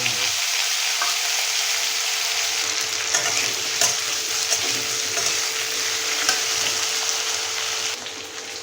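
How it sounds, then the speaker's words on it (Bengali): Potatoes fry in hot oil in a wok with a steady, loud sizzle and crackle, stirred now and then with scraping clicks, continuous throughout and easing slightly at the very end. "তেলটা গরম হয়ে গেছে। এবার আলুটাকে আমরা ভেজে নেব।"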